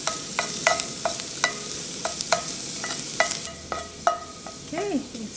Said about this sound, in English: we'll add the garlic and fry them until they're golden brown